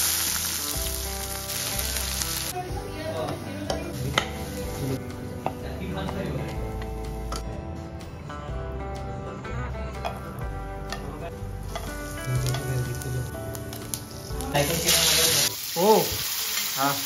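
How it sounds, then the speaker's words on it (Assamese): Onions sizzling as they fry in a pressure cooker for chicken biryani, a steady bright hiss throughout with some clinks and a voice talking over it. "এতিয়া মই প্ৰথমে ফ্ৰাই কৰিম পিঁয়াজখিনি"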